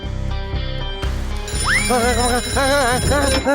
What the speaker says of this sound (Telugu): నేను లడ్డు సింగ్ గారికి ఫోన్ చేస్తాను.